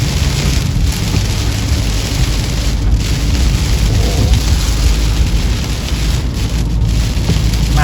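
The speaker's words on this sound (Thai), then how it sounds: "ฝนจะตกแรงแล้วก็เดี๋ยวเริ่มเริ่มเดี๋ยวเริ่มจะเบา" Heavy rain drums continuously on a Toyota Hilux Revo pickup during a drive in Thailand, loud and close, with deep rolling thunder rumbling underneath at intervals and no talking.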